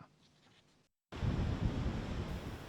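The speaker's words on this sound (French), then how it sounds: "Une plage quasi vide, des vagues déferlantes, entrecoupées par le sifflement du vent." Breaking surf and wind gusts on a nearly empty beach, a loud broad roar that cuts in after a brief silence, with quieter wind beforehand.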